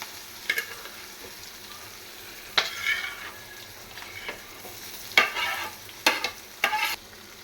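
Chopped ivy gourd pieces frying in a pan with turmeric, a low steady sizzle broken by occasional scrapes and clatters of a spoon as they are stirred, close and moderately loud.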